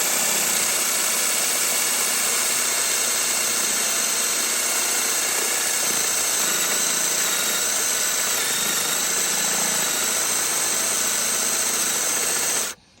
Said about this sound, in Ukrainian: Так, сверний, ну шуруповерт трошки слабенький.